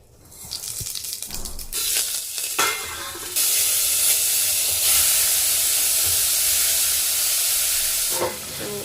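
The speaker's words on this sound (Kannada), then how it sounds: "ಇವಾಗ ಇದಕ್ಕೆ ಒಗ್ಗರಣೆ ಕೊಟ್ಕೊಳ್ತಿದ್ದೀನಿ." Loud, continuous sizzling and hissing of spices dropped into hot oil, with a few stirring clatters at the start.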